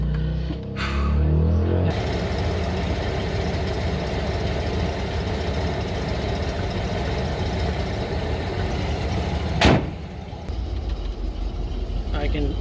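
A 1988 Ford F150 engine cranks, catches and settles into a loud, close, uneven idle with a rough misfiring lope, a short sharp clack near the end.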